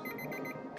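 A timer alarm sounds during a PTLUX rhodium-alternative electroplating session, a rapid steady electronic beeping that runs loud and continuous, cutting off just before the end.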